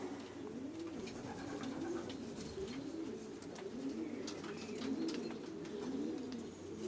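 Young racing pigeons coo repeatedly inside a loft, soft rolling calls overlapping in a steady rhythm against quiet background rustling and occasional clicks, no talking.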